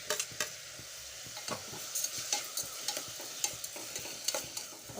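Tomatoes and salt are stirred in a pan for pulao: a steady run of close scraping spoon strokes over a soft sizzle, fairly quiet, with no voices.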